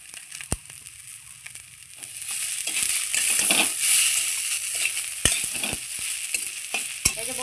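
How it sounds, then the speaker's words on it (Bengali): Rice and chopped onions fry together in a pan, a sizzling hiss swelling and fading as a metal spoon clinks and scrapes sharply against the pan several times. "দেখুন চাল পেঁয়াজ কত সুন্দর একসঙ্গে করে দুটোই ভেজে নিচ্ছি"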